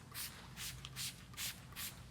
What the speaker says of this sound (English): And let's spray it on the cover.